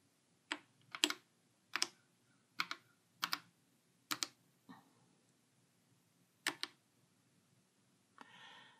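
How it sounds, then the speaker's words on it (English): Keys tapped on an Apple IIe computer keyboard while a first name is entered, a handful of sharp, close clicks in uneven bursts, then a brief softer rustle near the end. "Type your first name now and then press return."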